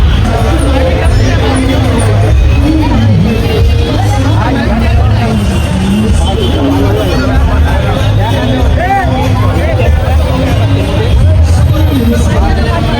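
Crowd of foot pilgrims on the Mumbai-to-Shirdi padayatra, a dense continuous babble of many voices outdoors with a truck rumbling underneath, loud and close throughout.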